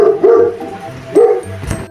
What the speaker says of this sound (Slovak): Ten pes. Kričí.